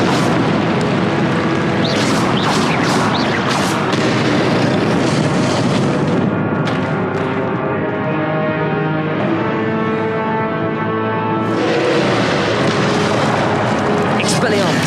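Hogwarts Legacy Confringo spell blasts, with heavy booming explosions repeated through a loud, dense game soundscape and voices talking over it.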